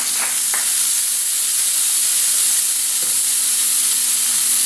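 Steak searing in a pan with garlic and peppercorns gives a steady, loud broadband sizzle with a few brief crackling bursts, and no voices.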